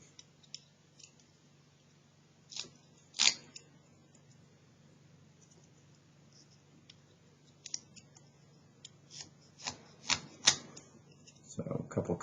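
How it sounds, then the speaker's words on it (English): Small knife cutting pine wood while whittling, a faint sequence of sharp clicks and scraping cuts at irregular intervals in a quiet room, with a few louder bursts near the end. "So a couple cuts up, slice down, thumb it off, cut in, cut down, cut in, cut down, cut in, cut down."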